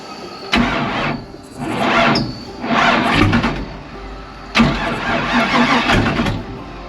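Car engine cranks and catches several times in rough bursts, sputtering and revving unevenly before dying and restarting, loud and close with no talk.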